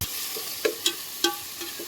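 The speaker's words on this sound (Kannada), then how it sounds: "ಇವಾಗ ಟೊಮೆಟೊ ಬೇಸ್ ಫ್ರೈ ಆಗ ನೋಡ್ರಿ." A tomato base for tomato rice frying in a pan: a soft, steady sizzle broken by a few sharp scraping taps as it is stirred, close and fairly quiet.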